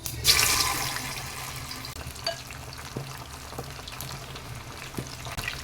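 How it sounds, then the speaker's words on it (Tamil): Marinated chicken pieces drop into hot oil in a small kadai with a sharp initial sizzle that settles into a steady, moderate frying crackle with occasional pops. "இப்போ நம்ம ஊற வச்ச சிக்கனை கொஞ்சம் கொஞ்சமாக போட்டு பொரிச்சு எடுத்துக்கலாங்க"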